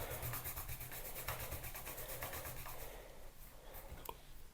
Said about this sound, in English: With my stamp scrubber and my stamp cleaner.